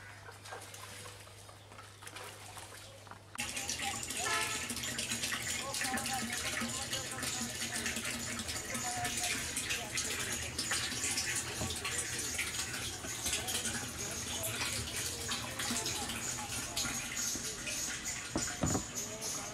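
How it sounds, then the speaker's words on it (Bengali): Water from an old submersible pump gushes in a loud, steady rush that starts abruptly after a quieter moment and keeps pouring without a break. "এটা আপনারা দেখতে পাচ্ছেন আগের পাম্পে চলা পানি"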